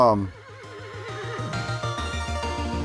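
A horse whinnies loudly with a shaky, trilling neigh, backed by upbeat game music with a bouncing bass line.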